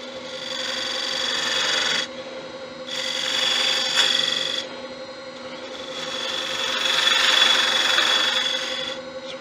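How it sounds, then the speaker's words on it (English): A detail gouge taking very light finishing cuts on a Balinese teak chalice spinning on a lathe, soft rasping scrapes in three sustained passes over a steady motor hum. "I'm taking a very light cut so I can just put a sandable finish on it."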